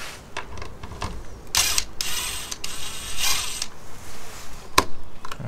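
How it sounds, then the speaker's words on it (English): Small mechanical clicks and creaks from undoing a clip on an air filter sensor of a Toyota Avensis T27 diesel, several short bursts spread over a few seconds, close and moderately quiet with no talk. "First we'll remove this sensor that goes to the air filter, and we have to undo that little thing."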